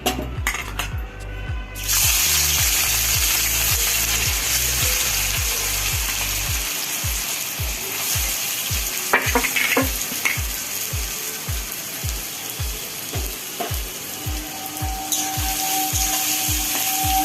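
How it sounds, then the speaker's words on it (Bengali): Onions sizzle in hot mustard oil with a loud, steady hiss that starts abruptly and holds. A regular series of low thuds runs underneath, and no voices are heard. "পেঁয়াজটা খুব ভালো করে লাল করে ভেজে নেব।"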